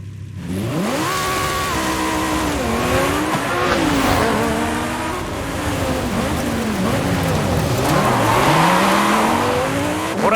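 A car accelerating hard in Forza Horizon 5, the engine revving up through repeated gear changes with rising and falling pitch, loud and close, with some tire squeal along the way.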